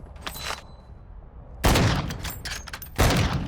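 Gunfire in the Call of Duty Modern Warfare II DMZ mode: loud, dense bursts of shots strike at about 1.6 seconds and again near 3 seconds, after a quieter opening with a faint earlier burst, with no talking.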